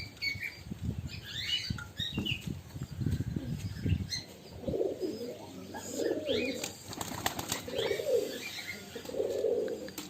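Pet pigeons kept at home coo in low, repeated throaty phrases, mixed with soft wing flaps and light pattering, close by and steady throughout with no talking.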